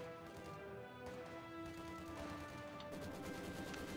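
Distant, faint gunfire in a Company of Heroes 2 battle, scattered shots crackling under a steady layer of game music and ambience.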